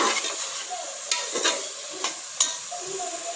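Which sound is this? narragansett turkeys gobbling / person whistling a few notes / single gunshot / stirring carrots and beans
stirring carrots and beans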